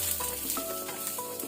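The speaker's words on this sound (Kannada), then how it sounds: "ಇದನ್ನೀಗ ಕೆಂಪಾಗೋ ತನಕ ನಾವು ಹುರ್ಕೊಳ್ಬೇಕು" Cumin and coriander seeds roast in a pan with a sprig of curry leaves, giving a short, even sizzle with faint ticking crackles throughout.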